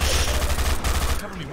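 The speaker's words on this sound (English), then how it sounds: "Stop throwing grenades." A loud, rapid clatter of gunfire and blasts from Half-Life 2 Synergy co-op play, with grenades bursting among the shots, cutting off abruptly near the end.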